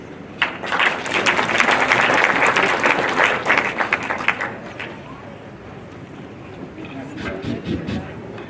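An audience at a public gathering breaks into loud, dense applause for the chairman, sustained for several seconds before thinning out into scattered claps and crowd murmur.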